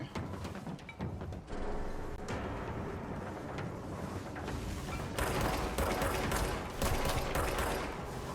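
Gunfire in the video game Control, with dense bursts of shots and rattling fire that rise in intensity toward the end, loud and close.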